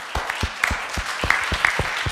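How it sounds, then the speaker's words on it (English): A panel discussion audience claps after a thank-you to research institute organizers, a short, fairly close burst of scattered hand claps with a few sharp individual slaps standing out. "So a round of applause for them."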